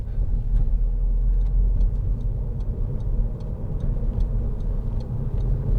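A 2010 SEAT Leon 2.0 TD FR diesel, the 170-horsepower version, on the move: a steady low engine and road rumble inside the cabin, with faint regular ticking on top and no talking.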